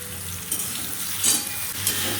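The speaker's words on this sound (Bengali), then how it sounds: "এই যে মশলা দিয়ে কষানো হয়ে গেছে জিরা আদা দিয়ে" Spices with cumin and ginger fry in a pan with a constant close sizzle, and a few brief stirring scrapes rise above it.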